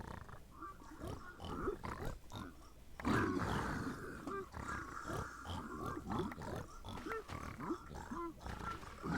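Piglins in a Minecraft bastion grunt and snort again and again, a dense stream of overlapping porcine grunts over steady low game ambience, with one louder burst partway through.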